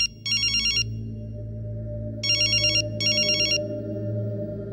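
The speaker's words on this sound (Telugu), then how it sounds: "ఫోన్ ఎత్తడేట్రా?" An unanswered telephone rings in a film scene, three short bursts of bright electronic trilling separated by pauses, loud and close over a low steady background hum.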